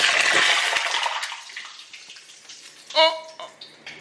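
Water flicked by hand into hot frying grease for chicken, giving a burst of broadband sizzle that fades over a few seconds, with a short sharp pop near the end and faint voice-like sounds.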